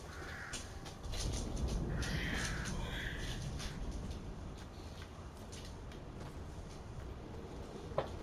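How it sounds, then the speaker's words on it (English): Crows cawing in the video game Fortnite, several harsh calls repeating over the first few seconds against a steady background of game ambience. "Hey, there's birds!"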